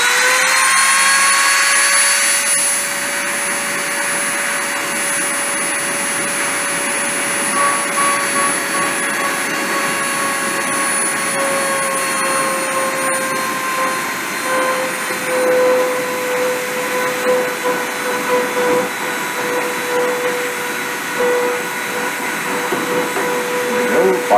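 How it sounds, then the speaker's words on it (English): A machine spindle spins up to speed with a rising whine that settles into a loud, steady, close high-pitched whir under a dense airy roar, running without pause. "I'm going to go ahead and turn the spindle on, get us into our startup position"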